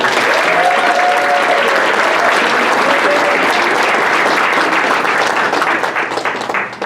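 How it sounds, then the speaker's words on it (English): Sustained applause from a large audience, steady and loud throughout, tapering slightly at the end. "Let's give a round of applause for Melanie."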